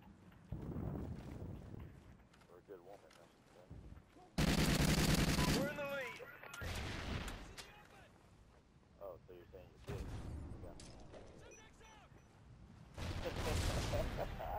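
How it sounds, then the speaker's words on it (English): Sniper and gunfire rounds crack in a PS3 shooter match on a hotel map, loud bursts of shots and blasts mixed with game sounds while players talk over the action. "I'm getting sniped at."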